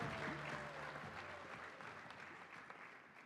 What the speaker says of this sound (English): Another round of applause to our young people.